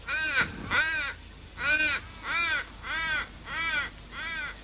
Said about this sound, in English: That's a kookaburra.